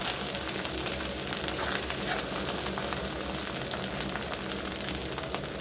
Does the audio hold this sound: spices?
yes